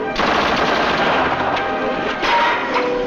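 Machine gun fire from a 1944 war film rattles in loud, rapid continuous bursts close by.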